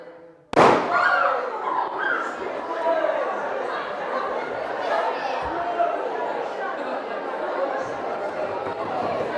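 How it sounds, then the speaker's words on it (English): A gas-filled balloon bursts with a single sharp bang during a chemistry demonstration in a lecture hall, followed by a murmuring audience chattering and reacting for several seconds afterward. "that was a bang, but not really a very good bang"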